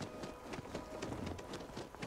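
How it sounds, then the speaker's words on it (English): Steady rain falls in the Starfield video game, a soft, continuous hiss with scattered patter. It is faint and even throughout, and no one speaks. "It's raining, man."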